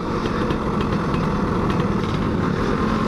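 A Suzuki Satria 120 R two-stroke motorcycle engine runs with a loud, dense, buzzy drone, steady and close throughout with no pauses.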